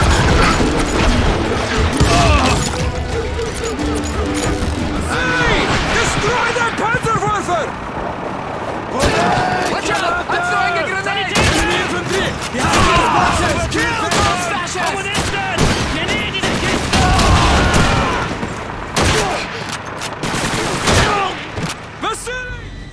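Rapid gunfire bursts in a survival horror video game shootout, loud and continuous over a dense backdrop of game music and effects, with voices talking throughout.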